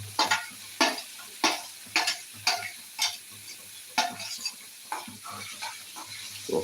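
Onion, garlic and chili frying in a pan, stirred in a steady rhythm of sharp scraping strokes about once per half-second over a continuous close sizzle.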